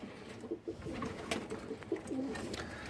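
An almond pigeon coos softly in a few short, low, throaty notes against quiet background noise.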